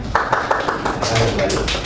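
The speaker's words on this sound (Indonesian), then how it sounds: "Tepuk tangannya." A small group of students claps during a microteaching lesson, a quick run of distinct claps close by, with voices talking over and around them.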